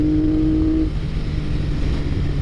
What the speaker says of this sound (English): there's a reason everyone fell in love with these 3-cylinder engines. Just make a glorious sound.